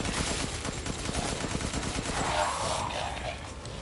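Rapid gunfire from weapons in the horror video game Resident Evil Village during a boss fight, a dense continuous burst of repeated shots that stays loud throughout with game effects mixed in.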